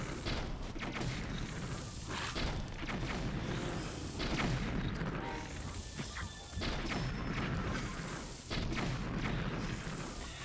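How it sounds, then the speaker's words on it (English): Repeated magnum gunshots in the video game Breath of the Wild, fired in a rapid series of loud, sharp crashing bangs spread across the clip, with some mechanical clatter between shots and no talking. "Just using up all my magnum bullets for fun now."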